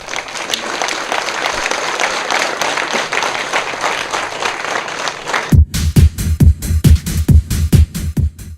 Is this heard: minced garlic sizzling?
no